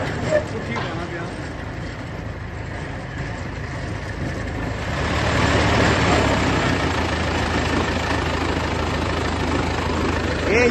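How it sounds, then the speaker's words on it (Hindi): An engine runs steadily in a village setting, a continuous low drone that grows louder about halfway through, with people talking over it. "ये इंजन लगा हुआ इधर"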